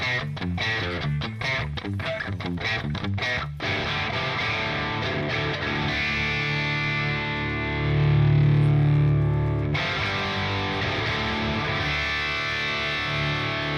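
An electric guitar runs through the Mercuriall Ampbox amp simulator on a Marshall-style setting, giving distorted rhythmic chugs that give way to sustained ringing chords, loud and close with no talking.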